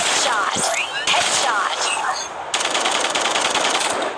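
Vandal rifle gunfire in Valorant, loud rapid bursts of automatic shots with brief pauses between sprays, close and dominant throughout.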